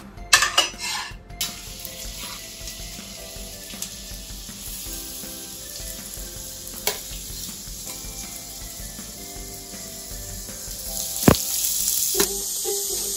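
Onions fry in a pan while being stirred: soft sizzling runs underneath scattered metallic scrapes and clinks of a utensil against the pan, with a couple of sharper knocks near the start and end.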